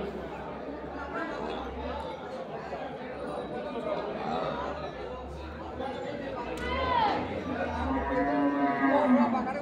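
Busy cattle market with people talking and chattering nearby, while water buffalo low a couple of times, the deep moos rising toward the end.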